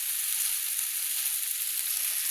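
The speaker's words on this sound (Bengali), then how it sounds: "এবার আমি জল অ্যাড করে দেব।" Sizzling from a pan of spiced flat beans, potato and eggplant cooked with a fish head as water is added, a dense steady hiss of frying, close and continuous with no voices.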